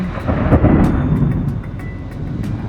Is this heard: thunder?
yes